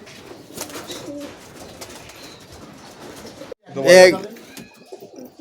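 Pigeons from a flock of long-flying domestic birds give a loud burst of cooing close by, after several seconds of steady talk and background bird sounds.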